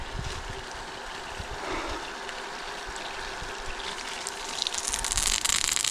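A creek flows with a steady, broadband rushing and trickling of water, continuous and fairly close, growing slightly louder and splashier toward the end, with no voices.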